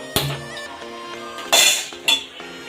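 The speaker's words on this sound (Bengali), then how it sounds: "কড়াইটা বসিয়ে দেবো।" A metal kadai (wok) is set down on a gas stove, giving a sharp clank followed by two more louder metallic knocks and clatters, close and alone with no talk.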